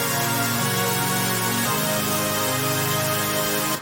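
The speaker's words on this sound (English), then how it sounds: "Which is just two pads and a reverb." Sustained layered synth pads with long reverb tails over a deep sub bass, forming the chorus bed of a produced song; a continuous, full, steady wash of sustained notes with a chord change midway, no voices.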